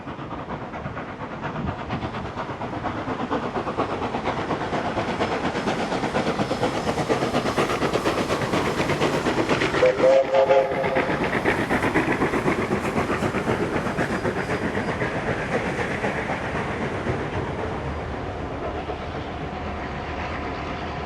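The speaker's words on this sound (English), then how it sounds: "We see the loco passing through Carlton" Steam locomotive 3526 hauling a train through Carlton, New South Wales, passes close by with a loud, continuous rumble, hiss and clatter of wagons that swells to a peak midway and stays strong throughout.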